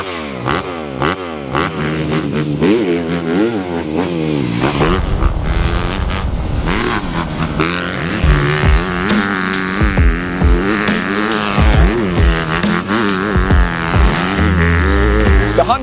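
A 2026 Honda CRF250 dirt bike engine revs hard and loud throughout, its pitch sweeping up and down with rapid throttle blips and gear changes in a close, raspy, buzzing howl.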